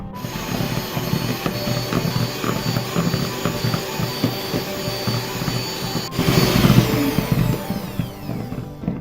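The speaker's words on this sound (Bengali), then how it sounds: "বিটারের মিডিয়াম স্পিডে আমি এখন এটা বিট করে নিব" An electric hand beater whirs steadily at medium speed through a vanilla ice cream mix, a loud continuous motor drone with rattling beaters that grows slightly rougher toward the end.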